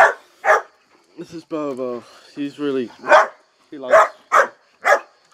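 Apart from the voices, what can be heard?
dogs barking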